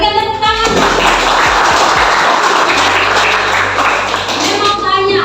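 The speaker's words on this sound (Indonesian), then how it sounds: "berikan tepuk tangan" Classroom students burst into applause after a lesson on papaya, a dense wash of clapping that swells quickly and holds steady for several seconds, with a few children's voices and taps mixed in at the start and end.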